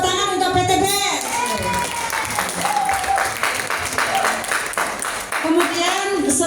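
Seminar audience at a Sharia business event applauds loudly and continuously, dense clapping filling the whole stretch while a voice or music carries over it.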